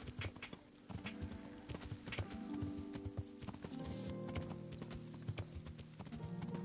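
Horse hooves clip-clop in a rhythmic trot in the video game Kingdom Come: Deliverance, with a brief whinny and other game sounds mixed in, fairly quiet overall.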